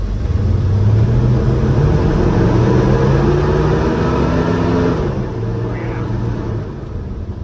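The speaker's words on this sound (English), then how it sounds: "Even though this engine isn't a super high horsepower deal, it's spunky enough, it gets right with the program." A small Japanese mini truck engine revs and pulls with a rising, buzzing drone, sustained and loud close to the microphone, then eases off toward the end.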